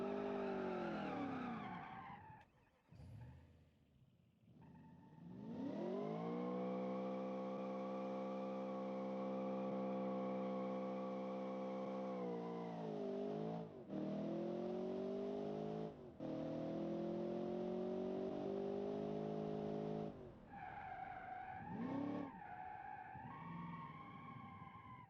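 Race car skidding sideways in a driving game, with engine revs climbing and holding, loud tire squeal, and several brief lifts and gear changes through the slide.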